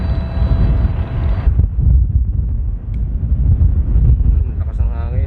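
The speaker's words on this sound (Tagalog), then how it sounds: "Sobrang lakas ng hangin dito." Strong wind buffets the microphone throughout on a RoRo ferry, a loud low rumble with gusts, while a steady engine-like drone sits underneath for the first part.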